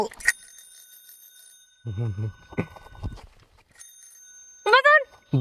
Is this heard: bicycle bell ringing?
yes